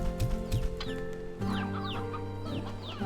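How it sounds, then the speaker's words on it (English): Chickens cluck in Slime Rancher 2, a cluster of quick clucks and chirps close by over a steady bed of ambient game sound, with no talking. "Do you like being with your chicken friends?"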